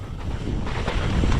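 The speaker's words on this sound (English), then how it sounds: "The wind has not stopped." Wind gusts buffet the microphone on an exposed Nevada mountain bike ridge. The rumble is loud and steady over a short stretch, with no talking.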